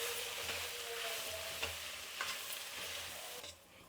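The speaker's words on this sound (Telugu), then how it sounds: "దీన్ని బాగా కలుపుకునేద్దాం." Homemade chili powder is being stirred into a brinjal curry in a pan, giving a soft continuous sizzle with light scraping of the spoon and a sharp knock at the very end.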